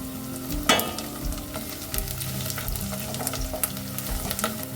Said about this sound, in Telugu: ఇప్పుడు ఇందులోకి ఒకటి లేదా రెండు ఎండుమిర్చి వేసుకొని ఫ్రై చేసుకుందాం